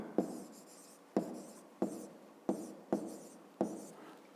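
A pen jotting a number on paper during a fifth-grade math exercise, six sharp strokes in a steady rhythm, each a crisp tap followed by a brief scratchy trail, close and quiet with no voices.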